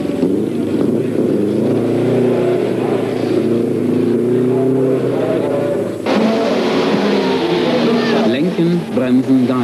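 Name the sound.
rally car engine revving, braking and accelerating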